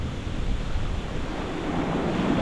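Ocean surf rolls steadily onto a beach after a hurricane, a loud, continuous wash of breaking waves mixed with gusty wind buffeting the microphone, with no talk.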